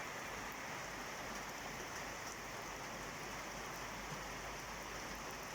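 Steady rain pours down in Vang Vieng, Laos, a dense unbroken hiss of falling water that stays even and fairly close throughout, with no voices.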